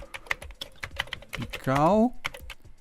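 Rapid clicks of someone typing on a computer keyboard to rename a file in Corel, a quick run of keystrokes with a voice speaking briefly over the top.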